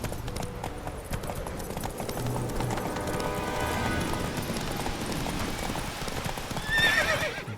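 Horse hooves clip-clop steadily at a gallop in The Witcher 3, a continuous rhythmic beat under game ambience, with a sharp whinny near the end.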